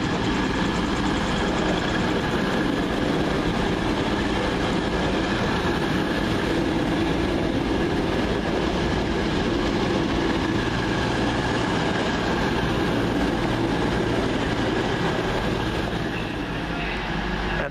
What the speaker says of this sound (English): Sound of turbo stars firing up means the 1337 London Midland service from Shrewsbury to Birmingham New Street now departing